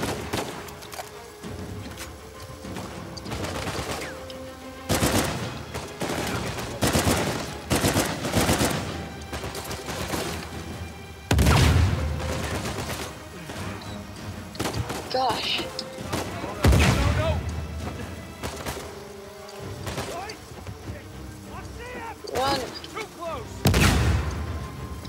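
Enemy gunfire in the video game Uncharted 4: repeated bursts of automatic fire and heavy booming shots, loud and dense across the whole stretch, with a player talking over the combat.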